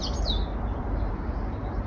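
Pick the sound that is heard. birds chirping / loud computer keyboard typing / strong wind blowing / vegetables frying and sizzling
birds chirping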